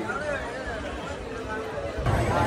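Dense crowd hubbub fills the queue for temple darshan, a steady wash of overlapping voices and shuffling close around, with a louder surge of nearby chatter near the end.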